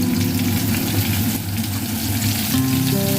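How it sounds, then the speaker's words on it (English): Marinated eggplant rings, seasoned with salt, turmeric and a pinch of sugar, frying in a pan with a loud, close, continuous sizzle and crackle, shifting slightly in tone toward the end. "First, put the eggplant rings in the pan."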